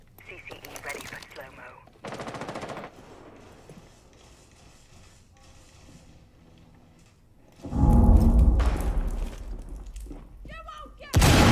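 Gunfire in the tactical shooter Rainbow Six Siege, loud bursts of automatic shots in separate clusters with quieter gaps between, a heavy boom in the later part, and a player's voice talking in places.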